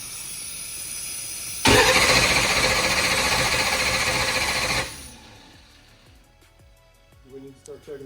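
A turbocharged small-block Ford engine in a ProMod Mustang cranks over on air for about three seconds, a loud, dense churning roar that cuts off abruptly and leaves quieter clanks and shop noise behind.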